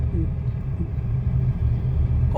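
Low, steady road rumble and engine drone inside a 2024 Maruti Celerio ZXI hatchback while driving, heard from the cabin with a continuous hum throughout.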